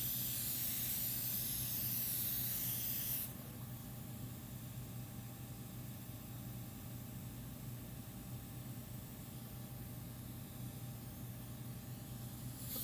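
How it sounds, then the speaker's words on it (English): A sprayer rinsing skin during a facial treatment gives a steady, close hiss that is strong for the first few seconds, then drops to a softer, continuous spray. "We move the sprayer up and down during the rinsing process."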